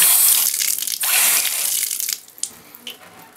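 Water pours steadily from a repaired bathtub faucet, a loud broadband hiss that runs strong for about two seconds and then drops to a quieter trickle with a few small splashes as the flow is cut back.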